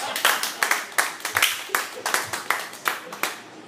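A few friends clap in a loose, uneven rhythm, a string of distinct close hand claps with no talking over them.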